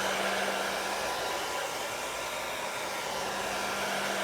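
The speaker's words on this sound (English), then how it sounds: "So now I'm going to hit this with my hair dryer." Hair dryer blasting continuously over freshly applied chalk paste to speed drying, a steady close broadband rush with an underlying motor hum throughout.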